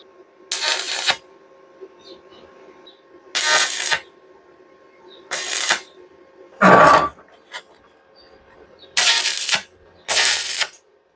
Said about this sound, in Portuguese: Vamos prender essa peça aqui para a gente fazer.